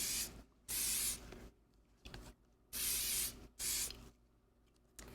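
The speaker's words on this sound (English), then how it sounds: "spray your product overall with a water protectant spray" Water protectant spray hisses onto leather in four short, sharp bursts, each around half a second, separated by quiet gaps with faint handling noises, recorded close up.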